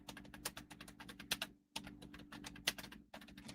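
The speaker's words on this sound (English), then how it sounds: "We can hear you typing." Fast typing on a computer keyboard, close and clear, with rapid irregular clicks in bursts and a brief pause midway, over a faint steady hum.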